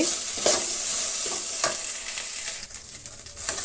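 Okra (ladies finger) fries in a pan with a close, bright sizzle and hiss, while a spoon stirs and scrapes through it in quick irregular strokes.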